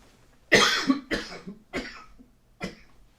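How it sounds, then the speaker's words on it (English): Four separate coughs, close and fairly loud, the first a double burst, with short pauses between them and no talking. "the coughing is starting pretty frequent"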